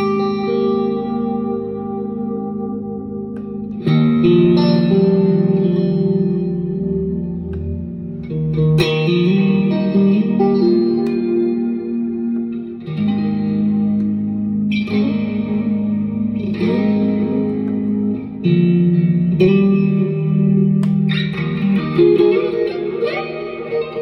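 An electric guitar plays through a Zoom G1On multi-effects patch with high reverb, strummed chords ringing out in a long, washy echoing tail, loud and close with no voices.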